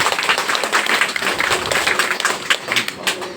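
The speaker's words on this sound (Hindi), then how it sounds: "आप लोग एक बार भाई जी का जोरदार ताली से" Loud, enthusiastic applause from an audience at a spiritual remembrance gathering, many hands clapping densely and continuously at close range.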